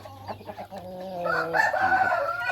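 A rooster crows loudly over a background of hens clucking nearby, the crow rising in the second half.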